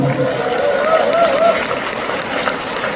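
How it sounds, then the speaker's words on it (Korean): An audience at a corporate culture talk gives a short burst of applause, a dense wash of clapping with crowd murmur and a voice over it. "여러분 박수 한번 보내도록 하겠습니다"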